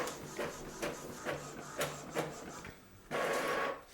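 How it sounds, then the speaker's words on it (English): An Epson ET-4800 inkjet printer printing a page: a series of soft mechanical shuffles and clicks about every half second, then a louder sustained whirring feed toward the end, close and alone with no talking. "Extend this tray, and the print should come out in around 15 seconds."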